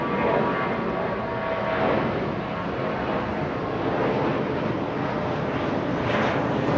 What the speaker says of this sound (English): It's an A320 using 25 right for departure.